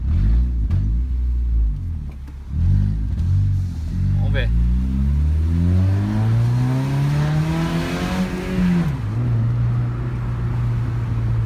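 A Honda Civic with its exhaust tip removed revs hard, its raspy engine note climbing and falling through several loud sweeps before settling into a steady drone, while someone speaks briefly over it.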